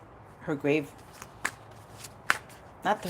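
Tarot cards shuffled by hand in a few brief crisp riffling bursts, close by and interleaved with someone speaking.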